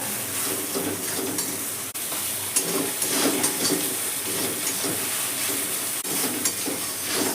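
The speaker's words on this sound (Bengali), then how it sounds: "দেখুন সর্ষে পোস্ত বাটাতে আমি ভালো করে কষিয়ে নিলাম" Malabar spinach stems sautéing in a pan with mustard-poppy seed paste and turmeric, giving a steady close sizzle broken by stirring scrapes, continuous throughout with no one talking.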